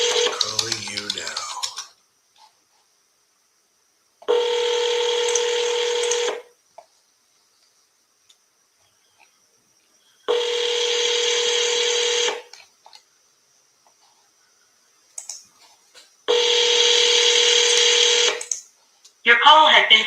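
Three separate bursts of telephone dialing tones, each lasting about two seconds with long silent gaps between, clear and loud while a call is being placed; brief voice fragments at the start and end.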